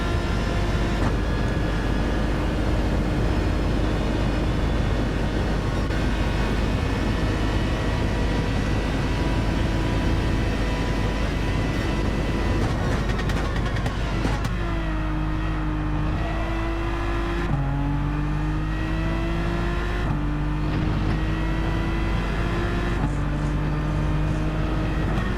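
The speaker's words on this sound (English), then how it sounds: "We're in the same type of machine, the Aston Martin Vantage." An Aston Martin Vantage Group 3 race car in Gran Turismo 7 at Bathurst roars loud and close, holding a steady high engine note, then shifts through repeated gear changes as revs climb and drop, with no talk.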